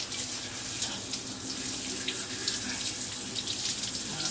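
Tap water runs steadily into a sink while a split leek is rinsed between its leaves, a constant splashing hiss at moderate level with no talking.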